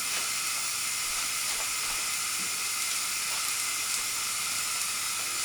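Ground beef sizzles in a pan as it is added to fried onions, a steady bright hissing sizzle that stays even throughout, close and without speech.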